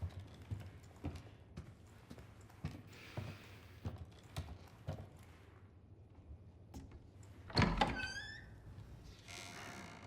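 A key turns and releases a door lock mechanism in Resident Evil 4 Remake, a sharp metallic clunk with a brief ringing scrape, preceded by soft scattered clicks and thuds.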